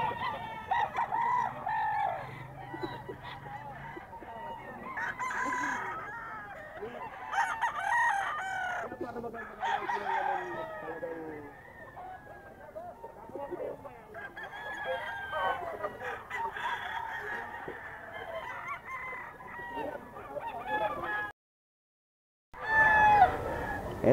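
Kelso gamefowl roosters crow repeatedly at a Bocaue sale, several birds calling near and far with clucks in between, while someone talks intermittently.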